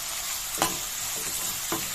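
A low, even hiss of onions frying in a pan for chicken pulav, with a couple of brief spoon scrapes as they are stirred, quiet and close with no talking.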